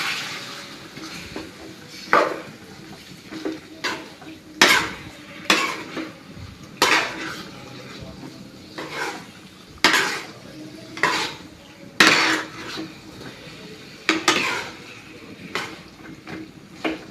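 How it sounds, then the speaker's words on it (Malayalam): A spoon works through Kerala-style chicken curry with roasted coconut paste in a pot. Close, rhythmic scraping strokes and metallic clanks repeat about once a second over a soft background sizzle. "ഒന്ന് ഇളക്കി യോജിപ്പിച്ചതിന് ശേഷം ഒന്ന് അടച്ചു വെച്ച് വേവിക്കണം"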